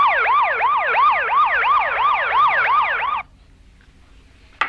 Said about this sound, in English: there was also the Banaka that made a siren noise